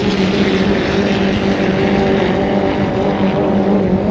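A racing powerboat engine roars steadily at close range, a loud, continuous high-revving drone with no pauses.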